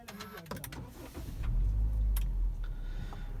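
A Honda Civic 1.8 Oriel from 2019 starts up with a brief cranking whir followed by a strong, steady low engine rumble that settles into a close idle.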